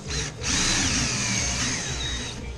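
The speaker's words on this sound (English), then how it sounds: "Once again, I'm drilling a little pilot hole." A power drill bores a small pilot hole into wood for drywall screws while building an RC car ramp, a steady close whine that runs for about two seconds after a short start.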